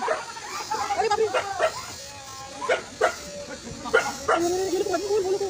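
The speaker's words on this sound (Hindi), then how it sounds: "अरे कुत्ता कुत्ता कुत्ता" A dog barks and yips several times, close and loud, in irregular bursts over a few seconds while excited human voices talk around it.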